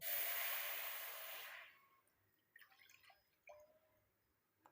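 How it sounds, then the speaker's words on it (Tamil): A tumbler of water poured into an iron kadai gives a loud, bright hiss for about two seconds, then fades to a few scattered drips and faint sizzles. "இரும்பு கடாயில் நல்லா ஒரு டம்ளர் அளவுக்கு தண்ணி வந்து சேர்த்துக்கோங்க"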